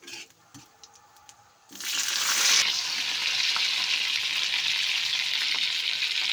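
A quiet stretch with a few light knocks gives way to a sudden loud, steady sizzle as vegetables with whole cumin fry in a pan. The dense hiss then runs on evenly while they are stirred.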